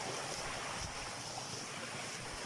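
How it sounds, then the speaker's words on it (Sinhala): Steady rushing of a stream flowing into a pond, continuous and broadband with a slight windy hiss, no voices present. "මේ ලස්සනට වතුර පාර ගලාගෙන යනවා"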